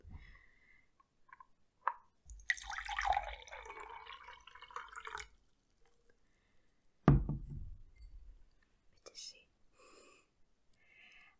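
Tap water is poured into a glass in a quiet, soft-spoken ASMR setting: a few seconds of splashing flow, then scattered drips and small knocks, with whispered voices in between.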